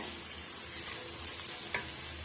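Onions sautéing in a pan for an egg gravy, a steady close sizzle of frying with a couple of brief stirring scrapes, no talking.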